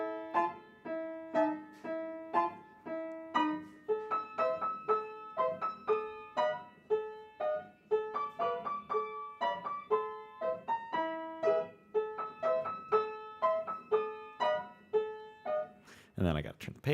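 Solo piano plays a moderately paced melody from Luigi's Mansion with clear, distinct notes and light accompaniment, ending in a sudden brief noise burst.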